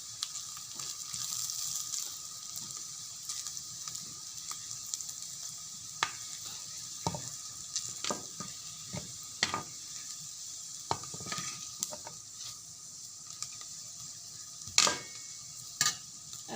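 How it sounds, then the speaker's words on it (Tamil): Garlic and masala with Kashmiri chilli powder sautéing in a pan for sardine fish kulambu, a steady close sizzle broken by scattered sharp scrapes and clinks of a spoon stirring against the pan, with no talk. "இது நல்லா வதங்கட்டும்."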